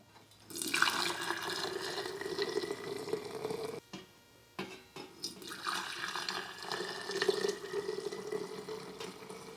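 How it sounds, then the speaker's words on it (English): Liquid poured into canning jars, a soft running splash and trickle that starts after a quiet moment, breaks briefly in the middle, then resumes at a low, steady level. "I'm going to fill these up to 1 inch from the top of the jar."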